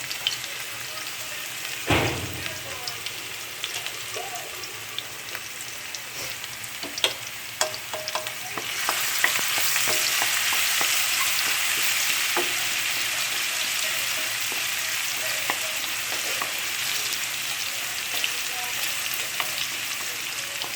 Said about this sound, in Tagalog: we need to fry first our garlic until it turns brown